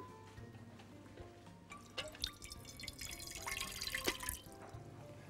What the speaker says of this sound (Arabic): ونحط فيها شويه ميه.